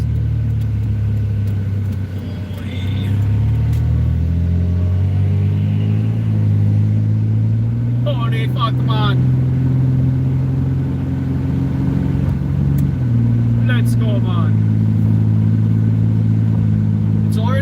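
Road traffic rumbles steadily and loudly around a parked van, with cars and engines passing nearby and occasional revving. A man briefly swears over the noise.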